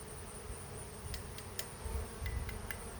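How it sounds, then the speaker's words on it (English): A faint, steady buzz of many angry honeybees around a hive hums throughout, with a few brief clicks and taps scattered over it. "now I just put 450 extremely mad bees back in my hive"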